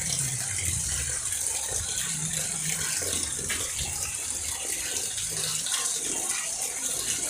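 Heavy rain falls in a backyard, a dense, continuous wash of water noise that stays even and fairly close throughout, with no clear voices over it.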